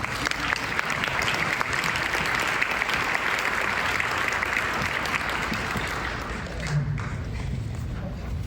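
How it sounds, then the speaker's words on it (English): Audience applause at a food waste panel event in Seattle as experts come up on stage, a loud, continuous crowd clapping that holds steady and fades slightly near the end. "Give them a round of applause."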